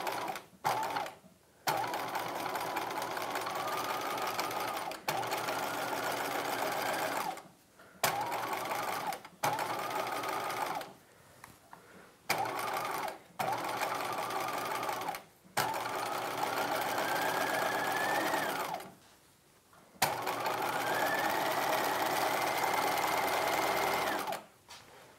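A sewing machine stitches a dress lining in long running bursts separated by short pauses, close and steady, with no voices over it.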